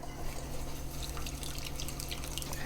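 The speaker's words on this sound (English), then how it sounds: "And now let's get this liquid in here." Liquid poured into a bowl of dry buckwheat crepe batter mix, a steady trickling, dripping pour heard close up over a constant low kitchen hum.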